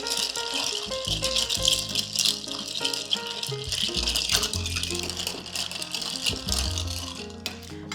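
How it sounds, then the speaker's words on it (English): Ice rattling steadily as a Boulevardier cocktail is stirred in a mixing glass, a close, continuous clinking churn over background music. "we're gonna stir this down to make the drink nice and chilled"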